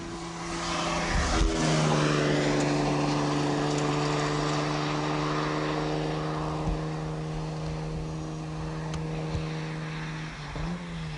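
A car at speed on the Bridgehampton race track during a high-performance driving session, a sustained loud engine drone with a steady pitch that shifts and dips as the car enters the corner.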